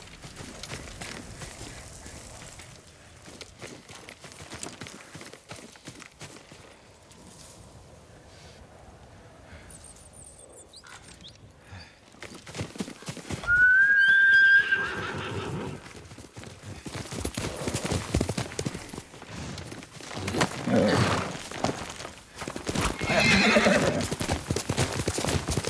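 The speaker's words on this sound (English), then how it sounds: "Yuriko's horse. She can't be far." Horse hooves clip-clopping and a whinny in the video game Ghost of Tsushima, faint at first, then growing louder with neighing and galloping mixed with other game sounds.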